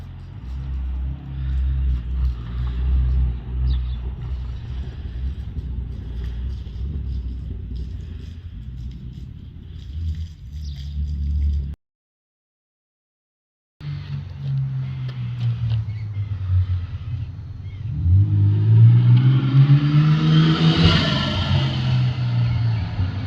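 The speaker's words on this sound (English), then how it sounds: "Told that turbo was going to be loud with that front housing." Turbocharged Holden VK Commodore engine running at a drag challenge weekend, a loud deep rumble that cuts out briefly, then returns and builds into rising revs with a whistling turbo note.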